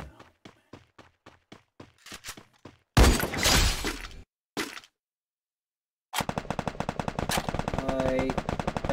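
Video game gunfire cracks out: a rapid string of evenly spaced shots, then a loud burst, a short pause, and another fast volley of bright, close reports.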